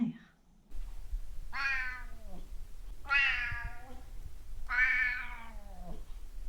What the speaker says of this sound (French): Mon chat, il aime chanter.